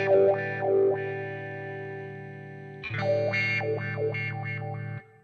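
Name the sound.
guitar wah effect on Sonicake Matribox, range slider moved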